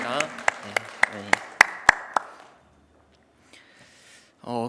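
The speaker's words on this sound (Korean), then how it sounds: "우리 하나님께 영광의 박수 올려드립니다." About eight sharp, evenly spaced claps ring out in a church during a Wednesday worship service, then fade to near silence before a voice briefly returns at the end.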